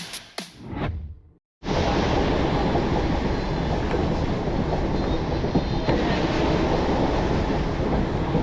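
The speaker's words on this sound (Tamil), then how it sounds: "ட்ரெயின் ஏறியாச்சு." A passenger train rolls along the rails on the Salem to Kolkata route, a steady, loud rumbling roar with faint rhythmic clatter that sets in abruptly after a brief muffled start and a moment of silence.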